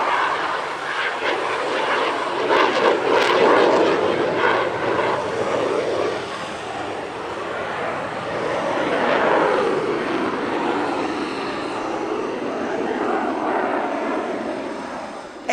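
A non-afterburning jet trainer performing a display at an Italian Air Force centenary airshow, its engine a steady, loud roar that swells and fades as it manoeuvres, with crowd or commentary faintly mixed in.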